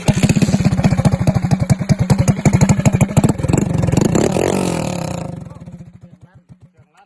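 An engine on a vehicle fitted with an American exhaust starts and revs hard, loud and close, its rapid pulsing exhaust rising through a sustained rev before settling into slower, fading idle thumps.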